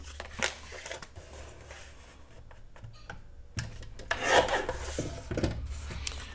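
Scissors cut small craft tags from paper, giving soft, close rasping and rubbing strokes. The sound is quiet and uneven and swells near the end.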